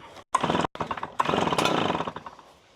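A gas-powered leaf blower engine being pull-started, with a few rough mechanical bursts and rattles from the cord pulls and the engine turning over, close and loud, with brief pauses between efforts.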